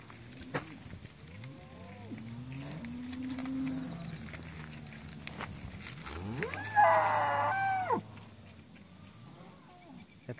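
Several dairy cows moo in long, low calls while being moved, one louder bellow rising up near the middle, with a person's voice occasionally calling out nearby.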